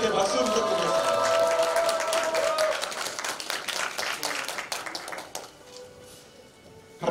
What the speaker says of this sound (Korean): 나오실 때 박수 부탁드리겠습니다.